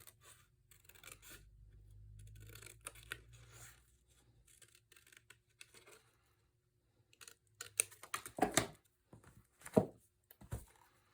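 Scissors trimming card for a slimline birthday card, quiet snips and paper rustle, with sharper cutting clicks clustered near the end over a faint low hum.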